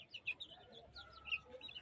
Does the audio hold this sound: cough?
no